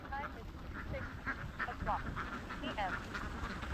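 A large flock of farmed ducks at Karuvatta quacks over and over at moderate distance, the calls overlapping in busy bursts while someone talks over them.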